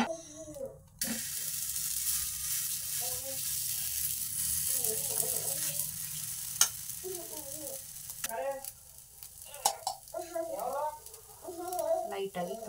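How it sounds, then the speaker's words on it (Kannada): Dosa batter cooking with ghee on a dosa griddle gives a steady hiss of sizzling throughout, joined by intermittent scraping and clatter, and occasional voices murmur in the background. "ಇದನ್ನು ದೋಸೆ ಕಲ್ ಮೇಲೆ ಹಾಕಿ ಸ್ವಲ್ಪ ಮೇಲ್ಗಡೆ ಲೈಟಾಗಿ ತುಪ್ಪ ಹಾಕಿ ಬೇಯಿಸ್ಕೊತೀನಿ ಇವಾಗ"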